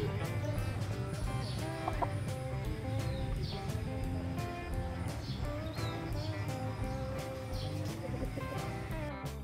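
Bulik gamefowl roosters cluck and chatter repeatedly at a seller's yard in Rosario, Batangas, a busy layered flock sound close by with steady background noise and no clear talk.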